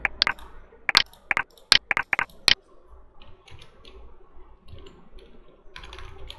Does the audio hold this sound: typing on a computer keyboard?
yes